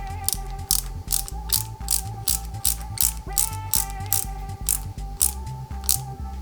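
Screw being tightened on a 1/8 scale Mercedes-Benz 300 SL model kit, a rapid series of crisp ratcheting clicks from a screwdriver repeating steadily and close by, with no talking.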